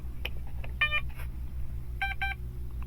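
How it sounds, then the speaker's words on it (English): A Banana Hobby T28 1.1m RC plane plays its startup beeps: two close pairs of short electronic tones over a low steady hum. "2 beeps."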